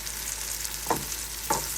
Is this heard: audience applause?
no